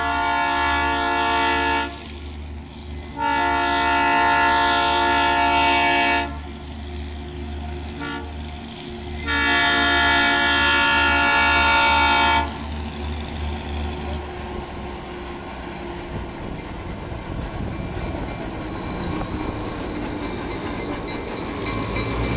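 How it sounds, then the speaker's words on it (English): An arriving narrow gauge train sounds its horn in three long loud blasts with short gaps, followed by the rumble and clatter of the train rolling in and passing close by. "This is the first dinosaur train coming in."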